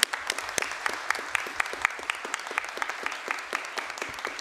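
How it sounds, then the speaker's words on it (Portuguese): Applause from a modest group at a formal ceremonial session for Chaplain's Day, with distinct sharp claps standing out over a steady patter of clapping. "recebesse uma salva de palmas"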